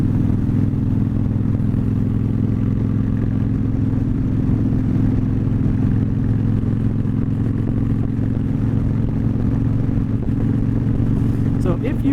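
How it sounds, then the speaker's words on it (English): A Honda Shadow motorcycle engine drones steadily while riding on a cold day, a loud, continuous low rumble mixed with wind noise throughout. "That little Shadow is just a gorgeous bike."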